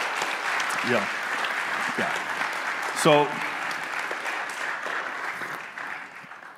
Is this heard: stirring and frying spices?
no